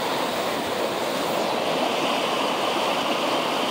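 A river stream in Portage Valley, Alaska, flows with a steady, broadband rush of water, constant and fairly loud throughout with no voices.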